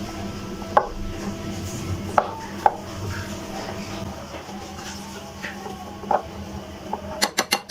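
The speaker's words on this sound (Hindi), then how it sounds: "अब इसको अच्छी तरह से करते हैं मिक्स।" A spoon works through thick besan pakora batter with chopped coriander in a bowl, giving soft squelching strokes, a few sharp knocks on the bowl, and a quick run of clicks at the end.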